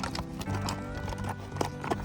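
Horses walk on a steep rocky mountain trail in Xinjiang, China, with hooves striking stone in an uneven clip-clop. The footfalls are close and loud over a dense rumble of movement and wind.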